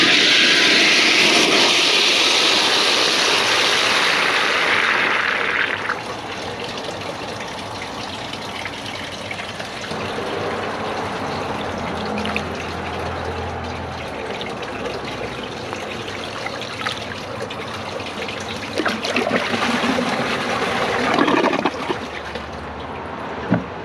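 A 2008 Kohler Cimarron high-bucket siphon-jet toilet, clogged, flushed a second time: a loud rushing gush for about six seconds, then a lower swirling drain and refill with gurgles, close up and without talk.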